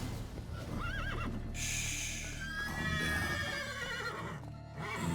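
A horse in The Witcher 3: Blood and Wine neighs and whinnies twice, with a long rising-and-falling whinny in the middle, over steady game background noise with faint hoof clatter.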